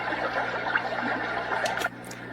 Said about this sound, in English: A river.